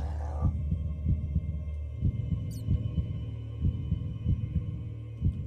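In the video game Decked Out 2, a heavy heartbeat pounds in steady, evenly spaced double beats over a low drone, loud and close with no talking.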